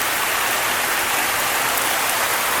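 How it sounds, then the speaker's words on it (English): Heavy rain pours down just outside a balcony during a tornado warning in Saginaw, Michigan, a dense, loud, unbroken hiss of falling water. "Rain's coming down pretty hard."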